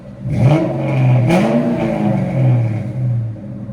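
A 1996 Ford Mustang Cobra 4.6L V8 with no catalytic converters and a Flowmaster 40 Series exhaust revs hard several times, its pitch rising and falling in loud, throaty bursts close by, with no talking.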